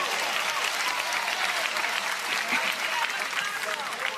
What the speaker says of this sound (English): They're going to have to play in the face of this ruckus crowd